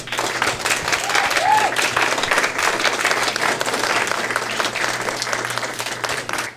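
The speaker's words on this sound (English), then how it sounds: "Another round of applause." Audience applause after a band's performance at a songwriters showcase fills the room, a steady wash of many hands clapping at even loudness from start to finish, with a low hum underneath.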